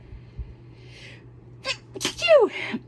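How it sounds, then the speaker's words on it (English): A sharp human sneeze near the end, preceded by a quick intake of breath, with a faint cat-like squeal mixed in; fairly close and loud. "And I feel a sneeze coming."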